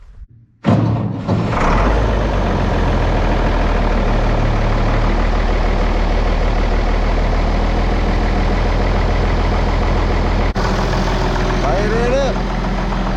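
A farm tractor engine fires up after a brief quiet moment and settles into a steady, loud, close idle that runs unbroken to the end with a constant low rumble, during late-autumn work around a farm.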